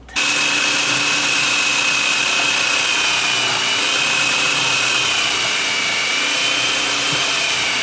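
A food processor chopping apples for strudel filling kicks on and runs at a loud, steady whirring drone with a faint high whine, continuous and close.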